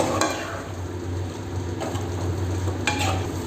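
A homemade biryani masala and tomato mixture being stirred in a hot pan, giving a steady low sizzle with a few brief scraping strokes of the spoon.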